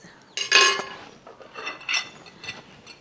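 Cutlery and dishes clink and scrape as freshly cooked French toast is put onto a plate, with a few bright metallic chinks followed by softer clatter, close by.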